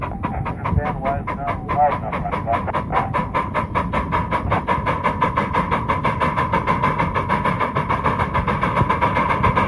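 An ALCO Northern Lackawanna model locomotive idles with a steady low rumble and a regular rhythmic chuffing pulse, loud and close, running continuously throughout.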